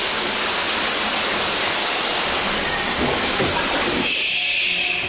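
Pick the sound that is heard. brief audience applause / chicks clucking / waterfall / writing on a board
waterfall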